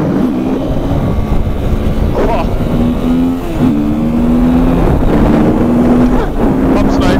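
A 2019 KTM SMC-R 690 single-cylinder motorcycle accelerates hard with a quickshifter. Its loud, close engine tone climbs in steady pulls, broken by several quick clutchless upshifts, with wind rushing over the microphone throughout.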